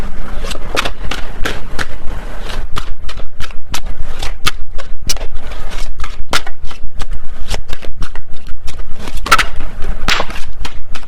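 Tarot cards being shuffled by hand produce a rapid run of crisp riffling clicks and slaps, close and steady across the whole stretch, with no voice over them.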